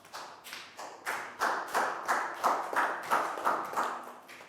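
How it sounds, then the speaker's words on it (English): Clapping for a student in a classroom comes as about ten evenly spaced, fairly close claps in a steady unison rhythm, with no voices. "High five and a big round of applause for Prau."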